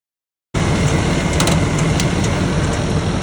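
A Class A fire engine runs with its pumps going, a loud steady low rumble that starts abruptly after a brief silence and holds constant to the end.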